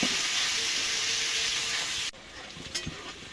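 Chopped onion and crushed garlic fry in a pan for mutton kosha, giving a loud, dense hissing sizzle close up that cuts suddenly to a quieter sizzle with stirring knocks.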